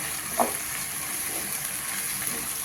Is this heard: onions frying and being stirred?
yes